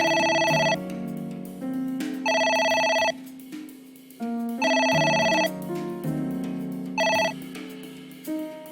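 Within the game AI: The Somnium Files, a phone rings on and on in regular bursts, each trill bright and electronic, separated by brief gaps over quiet background music, clear and close.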